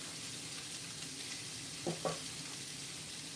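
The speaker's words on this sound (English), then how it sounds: "I'm gonna get the onions in the pan" Onions frying in a skillet give a steady, soft sizzle throughout, with two brief louder crackles or stirring bumps near the middle; no talking.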